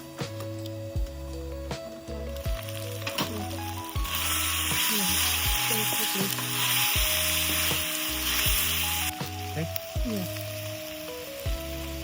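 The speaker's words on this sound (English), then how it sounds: "add your vegetables and stir fry until they reach that perfect semi-tender texture" Vegetables and lemongrass pork ribs are stir-fried in a reducing sauce. A loud, steady sizzle swells and fades as the pan is worked, with a repeating low tonal music pattern running beneath it.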